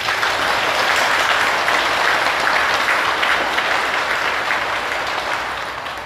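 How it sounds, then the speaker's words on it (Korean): Sustained audience applause at a Buddhist dharma talk, a dense, even wash of clapping from many hands that holds loud and steady before tapering slightly at the end. "그분들의 명복을 위해서 박수 한번 치세요."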